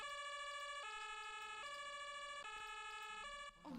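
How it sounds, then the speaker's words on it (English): Ambulance sirens in the Emergency 4 video game cycle in a steady two-tone pattern, switching pitch about every second, quite faint and alone before cutting off near the end. "We have got ambulances."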